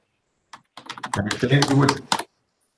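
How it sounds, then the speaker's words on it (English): Rapid clicking of a computer keyboard picked up by an open microphone during a village commission meeting, a quick run of close, dense keystrokes lasting about two seconds with no speech. "whoever's typing, please turn off your mic."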